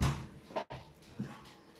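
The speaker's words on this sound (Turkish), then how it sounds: "Kapıyı da kapatalım." A door is pushed shut with a single soft thud and a brief clatter, followed by a faint second knock, close by inside a room.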